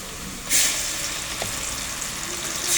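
Onion and tomato sizzle in a frying pan for an Egyptian pasta sauce, a steady crackling hiss that swells loudly as tomato goes in, with stirring noises throughout.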